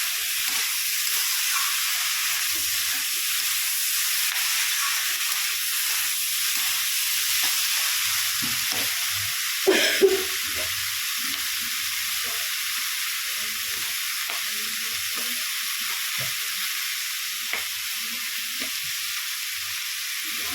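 Steady frying sizzle from a pan of spring onions with a little water added, hissing continuously at close range, with a brief louder burst of stirring or splashing near the middle before settling back to the even crackle.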